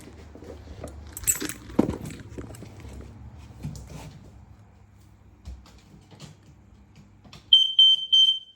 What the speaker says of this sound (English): So I'm just going to test the smoke alarms in the property now.